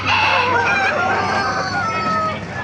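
Several roosters crow loudly and overlap, their drawn-out calls rising and falling amid a busy cluster of clucking chickens nearby, at a chicken market in Baliuag.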